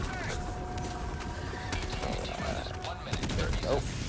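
Speargun shots fire in the video game Helldivers 2 amid a dense battle mix of bug enemies, sharp repeated blasts cutting through constant loud background noise.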